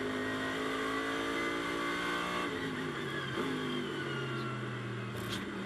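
A GT race car engine at Zandvoort circuit revs and modulates through a corner, the tone dropping and rising as the throttle is worked, with a loud, sustained engine note and pitch shifts midway.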